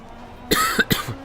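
A few harsh coughs close to the mic, two main bursts in quick succession followed by a softer rasp, in a quiet room.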